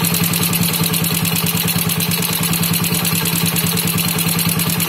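Yamaha Jupiter Z motorcycle engine idling close up during carburetor tuning, a loud rapid, even putter with a metallic clatter, steady throughout with no talk.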